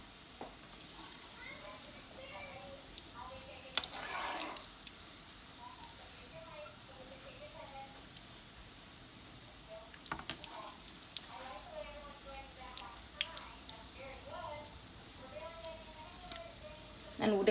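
Gulab jamun balls fry in a pan of hot oil, giving a steady, soft sizzle and crackle throughout, with a few louder bursts of spattering and a faint voice at times.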